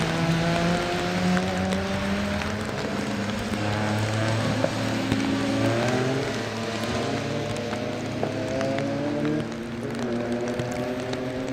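Racing cars circle the Oulton Park circuit during a BARC race meeting, several engines overlapping into a steady, continuous roar with rising and falling pitch sweeps as cars pass, fairly loud throughout with no talk.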